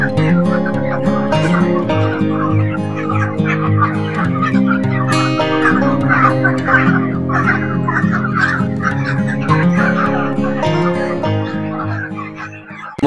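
Many young broiler chicks crowd a large poultry farm of about 2,500 birds, their dense overlapping peeping and clucking filling the space continuously and loudly, with a faint voice now and then beneath the flock.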